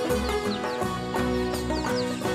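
Chickens and chicks clucking in short bursts at feeding, with chirpy birdlike calls layered over a steady low hum, fairly close and continuous throughout.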